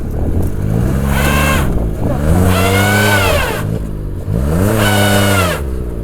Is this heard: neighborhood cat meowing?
no